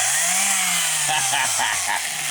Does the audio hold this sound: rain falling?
no